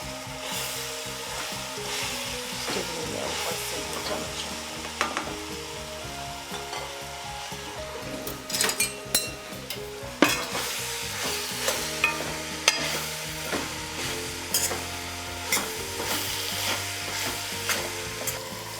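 Green onions cook in oil in a pan with a continuous sizzle, broken by repeated clicking scrapes of stirring that grow more frequent toward the end.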